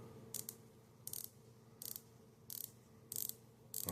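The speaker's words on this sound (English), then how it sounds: "Let's hear that bezel action." A Tudor Black Bay watch bezel is turned in short bursts, each producing a quick rapid run of crisp ratchet clicks, six evenly spaced bursts, very close and quiet with no voices.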